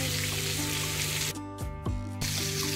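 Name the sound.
stuffed bangda (mackerel) fish frying in a pan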